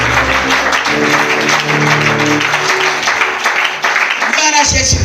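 A church congregation applauds in a steady wash of clapping with a musical hum beneath it, continuing for several seconds.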